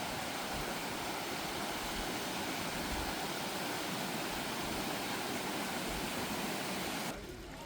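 A cool mountain valley stream on the Odaesan slopes of Pyeongchang, near Woljeongsa temple, rushes in a steady, dense wash of water that stays loud and unbroken, with no voices over it.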